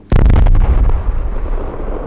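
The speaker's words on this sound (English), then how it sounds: "Today, bomb technicians detonated the explosives" Bomb technicians detonate old rusted mortar shells found in a logged field. One loud, close blast booms out and then trails into a long rumbling decay.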